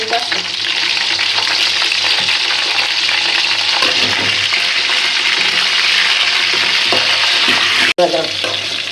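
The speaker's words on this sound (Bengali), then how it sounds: "আমি লবণ আর গোলমরিচ হালকা দিয়ে ভাজে নেব" Chicken fries loudly in a pan with salt and pepper for street-style chicken egg chow mein, a steady bright sizzle with stirring and scraping, broken by a brief sharp clatter near the end.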